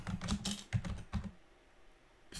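Quick bursts of typing on a computer keyboard while entering a query into a spreadsheet, close and crisp clicks that stop briefly before one final keystroke, with no voice.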